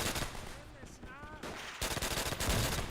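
Rapid bursts of gunfire from Call of Duty: World at War, WWII-era weapons firing with iron sights, dense and loud, with a brief quieter lull mid-burst before the shooting resumes, mixed with faint game sounds.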